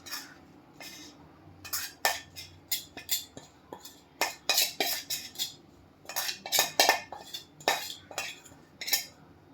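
Cooked flour dough is scraped out of a pot onto a plate, with a rapid series of sharp metallic clinks and scrapes of a utensil against the pot, near and irregular.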